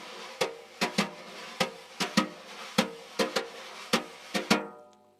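Crisp wire brush strokes tap out a steady swing rhythm on a drum, with paired accents over a soft continuous swish, played alone.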